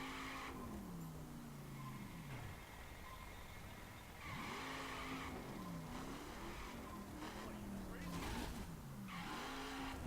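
In The Crew racing video game, a car skids with squealing tires in repeated wavering bursts over steady engine drone, loud and continuous, while a person talks over the gameplay.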